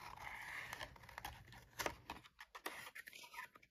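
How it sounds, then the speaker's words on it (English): Small Cutterbee scissors snip roughly through paper for a Bible journaling page, with quiet, close, irregular crisp snips and light rustling under soft speech. "I am just roughly cutting this out"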